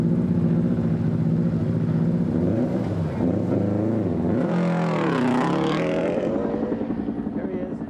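A rally car on the 1996 Safari Rally pulls up to a passage control, its engine loud and close with a wavering, revving note that climbs and falls before easing off.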